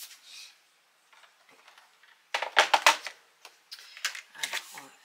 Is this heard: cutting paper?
yes